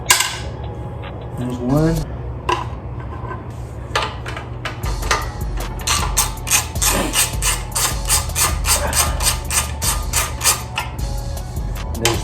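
A ratchet works the 13mm bolts off the exhaust of a Coleman CC100X mini bike, giving steady rapid clicking and metallic rasping up close, with a brief remark spoken near the start.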